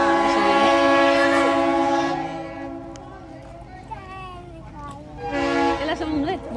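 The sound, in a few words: train arriving in Cuyahoga Valley National Park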